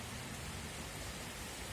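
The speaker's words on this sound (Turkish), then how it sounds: "Şu an dışarıda böyle yağmur yağıyor." Rain falling outdoors in winter makes a soft, continuous hiss, faint and even with no distinct drops standing out and no voices.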